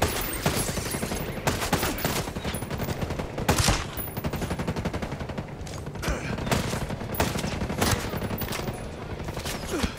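Enemy gunfire in the game Ghost Recon Breakpoint: rapid, continuous bursts of automatic fire and scattered single shots, loud and dense across the whole stretch, with no voices heard.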